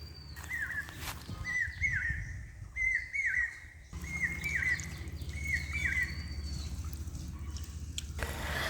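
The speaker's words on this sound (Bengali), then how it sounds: "আজকে কোকিল পাখি তো একদম মাথা নষ্ট করে দিচ্ছে, মাথার উপরে কু কু করে ডাকছে" A koel calls from overhead in a village, repeating its rising two-note cry about five times in a steady rhythm over a low, constant background hum.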